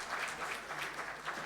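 An audience at a Hindi fortnight prize-giving ceremony claps briskly for award winners, a lively patter of many hands with no one speaking.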